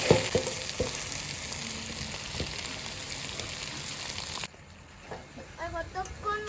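Chicken kosha sizzles loudly in a pan while being stirred, with powdered garam masala added, the frying cutting off abruptly partway through, followed by faint talk.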